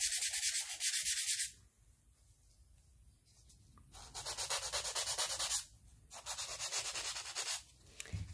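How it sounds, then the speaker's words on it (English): Sandpaper rubs across a painted foil-covered rock in three separate bursts of scratchy, close scraping, with quiet pauses in between. "You can just take some sandpaper, and in places where you may have transferred some ink, see my black spot here? Just fan these off."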